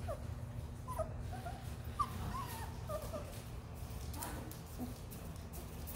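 Newborn puppies whimper and squeak in thin, high, scattered cries, close by over a low background hum.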